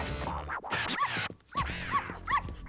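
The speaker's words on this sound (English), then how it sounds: "Four Eyes must be barking at herself in the mirror" Cartoon dog barks sounding from indoors, several sharp yips and barks in quick succession, fairly close and loud, with some whimpering tones between them.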